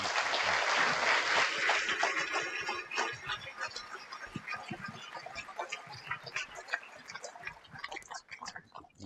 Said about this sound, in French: Je vous prie de bien vouloir applaudir François Gemène